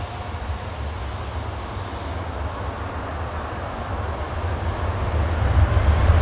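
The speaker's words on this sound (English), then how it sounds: "Hear the sound of the airplane." An airplane's jet engines on a runway at a London airport give a steady, broad roar that swells louder toward the end as the aircraft moves.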